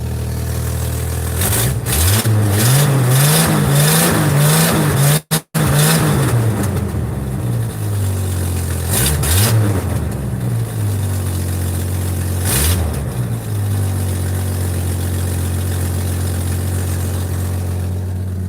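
A loud hot rod engine revs hard several times, settles into a rumbling idle, then blips the throttle again, close by.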